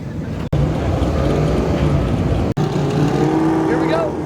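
An autocross car idles loudly and steadily at the start line before launching, its engine drone constant with two brief dropouts and a faint voice underneath.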